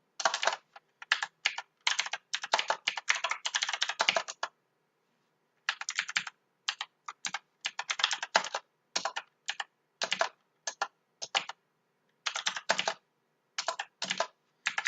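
Bursts of typing on a computer keyboard while code is written for a basic website, clicking keys coming in quick clustered runs separated by short pauses, close and clear with no talking.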